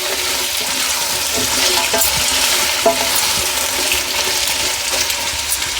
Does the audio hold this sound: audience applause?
no